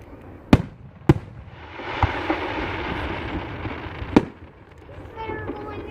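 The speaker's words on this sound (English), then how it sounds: "You're done watching fireworks?" Fireworks burst in a few sharp, loud bangs spaced seconds apart, with a stretch of sizzling crackle in between and a faint voice in the background.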